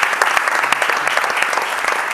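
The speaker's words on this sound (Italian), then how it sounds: "Un applauso al Presidente Enzo Imbattaro." Steady, dense applause from a studio audience on an Italian sports TV show, continuous clapping at an even loudness throughout with no voices breaking through.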